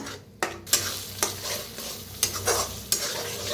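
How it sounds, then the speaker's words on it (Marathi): Masala roasting in a pan for a wedding-style brinjal and potato curry, a continuous sizzle broken by repeated scraping stirs of a spoon against the pan, close and moderately loud with no voices. "तर बघा काय मस्त भाजायला आलाय मसाला."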